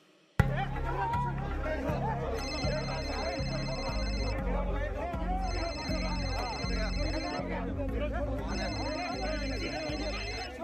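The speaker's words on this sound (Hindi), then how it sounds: "प्रेस के शोरगुल के बीच सूरज को अपने फोन की रिंग सुनाई नहीं दी" A phone rings in repeated electronic bursts, three times, partly buried under loud press-room chatter and overlapping voices, with a steady low rhythmic pulse underneath.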